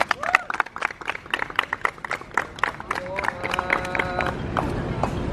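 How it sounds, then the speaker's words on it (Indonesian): A group finishing an outdoor exercise session breaks into scattered, uneven applause, quick claps ringing out close by with a few voices mixed in. "Tepuk tangan untuk kalian semua."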